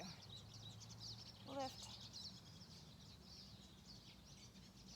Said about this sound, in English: Do you hear the birds? They're so loud.